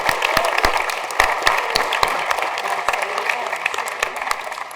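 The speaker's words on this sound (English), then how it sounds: "Let's give a round of applause for making her way here, all the way from Australia." Audience applause at a music industry panel on Indigenous perspectives, a steady dense clapping from a room of listeners that holds even and fairly loud throughout.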